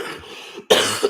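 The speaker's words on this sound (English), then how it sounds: "Sometimes I do still need to cough all the time." A man coughs once, hard and close, breaking off a football results commentary.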